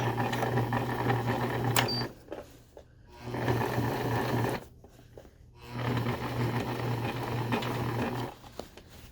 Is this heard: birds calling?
no